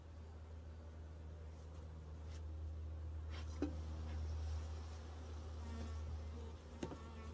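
A constant droning hum of honeybees buzzes around an open hive during a first inspection in a new bee yard, steady and moderately close, with a few faint knocks and handling noises.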